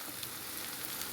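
Seafood sautéing in a pan with turmeric, chilli and Kashmiri chilli powders: a steady, soft hiss of frying oil, close and continuous with no voices.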